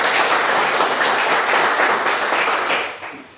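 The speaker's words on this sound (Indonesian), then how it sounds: "Tepuk tangan dulu." Children clapping together in a classroom at the start of a lesson, a brisk dense flurry of hands close by that holds steady, then tapers off and fades near the end.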